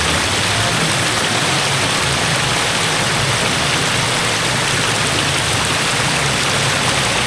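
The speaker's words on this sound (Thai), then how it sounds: "น้ำยังล้นอยู่ปัจจุบันนี้น้ำไหลตลอดปีเลยนะ" Water overflowing a weir makes a loud, steady, broadband rush of constant churning flow that stays close and unbroken throughout, with no voices.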